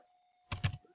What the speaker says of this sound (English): I'm now going to proceed by typing the name,